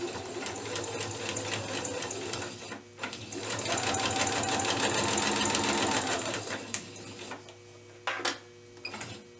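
A sewing machine runs in short bursts while piecing fabric for paper piecing, with a longer steady whirring run in the middle and brief back-stitch stops and starts around it, close and fairly quiet.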